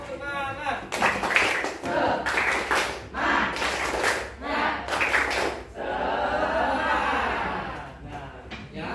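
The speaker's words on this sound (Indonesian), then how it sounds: "Ya, semuanya tepuk semangat." A class does a rhythmic spirit clap: loud, close bursts of many hands clapping together in a set pattern, with voices chanting and calling out between the claps.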